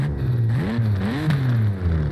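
BMW M4 idling in Forza Horizon 5, a loud, deep engine drone that holds steady with two brief blips of throttle rising and falling, continuous and close.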